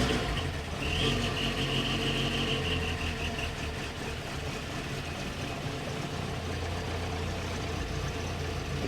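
VW Golf Mk2 1400S engine idling roughly after a fresh start, a steady close mechanical drone with a slightly uneven, throbbing rhythm throughout.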